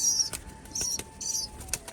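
A Turkish Tumbler pigeon's wings flap in a few quick bursts, close and fairly quiet, with faint high chirps and a thin tone in between.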